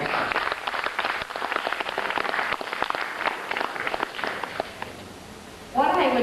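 An audience at an animation series closing ceremony breaks into sustained applause, a dense patter of many hands that thins out and fades near the end before a brief voice cuts in.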